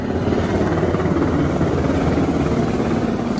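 A helicopter flies steadily and loudly with a constant rotor thrum and engine roar, a continuous drone with no pauses and no voices.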